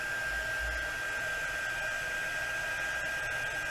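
A heat gun blowing on faux enamel powder spread on a plate, producing a constant loud whooshing roar with a steady high whine, unbroken throughout.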